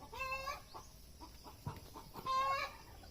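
Chickens cluck and call nearby, with two longer drawn-out squawks at the start and end and scattered clucks between.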